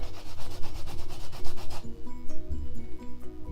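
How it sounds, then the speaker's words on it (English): Rubber stamp rubbed clean on a pad after a spray of Stampin' Mist, a steady close scrubbing and rubbing texture that carries on through the whole short stretch with no voices. "Take your stamp, you just give it a rub"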